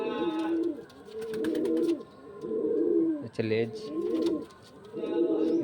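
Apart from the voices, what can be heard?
pigeon cooing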